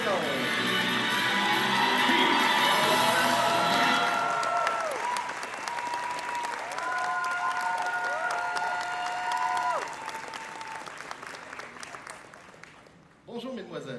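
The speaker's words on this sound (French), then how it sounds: "une bonne main d'applaudissements" Audience applause and cheering at a cosplay contest, dense clapping with crowd cheers running throughout, while a voice speaks over it and the clapping thins toward the end.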